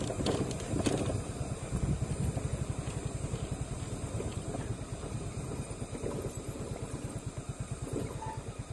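A motorcycle engine runs steadily with a rapid, even pulsing throb, heard up close and continuous on a rough hillside road, with a faint background hum.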